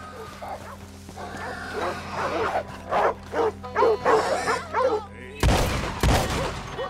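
Black dogs bark in bursts of repeated, fairly close yaps in Red Dead Redemption 2. A steady background hum runs beneath them, and a couple of loud broadband crashes follow near the end.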